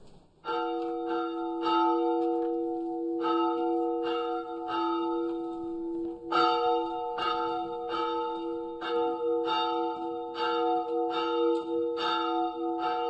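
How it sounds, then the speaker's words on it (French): Fortified church bell in Transylvania, rung by hand with a rope at noon, sounds in a steady series of loud, ringing strikes, each leaving a long overlapping hum, with a brief pause midway before the tolling resumes. "Elle garde l'église fortifiée dont elle sonne la cloche tous les jours, à midi précise."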